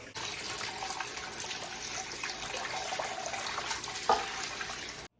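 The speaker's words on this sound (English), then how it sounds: "Now I'm going to strain this in a big bowl and take off that ham meat that you see" Ham broth poured through a strainer into a big bowl, a steady close trickle and splash of liquid running for several seconds before stopping abruptly.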